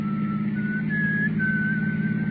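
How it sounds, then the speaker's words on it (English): A man whistles a short, wavering melody over a constant low engine drone, like riding inside a car. "Then I heard him whistle."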